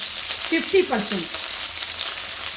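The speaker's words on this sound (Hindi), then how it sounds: "इसको 5 से 7 मिनट तक इसमें फ्राई कर लेना है भिंडी को।" Okra frying in oil in a pan gives off a steady, fine crackling sizzle, with a faint clink of stirring near the start; no speech.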